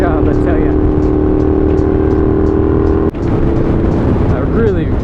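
A Honda GL650 motorcycle on a road test ride, its engine holding a steady loud drone close by with a brief dip partway through, a voice talking over it.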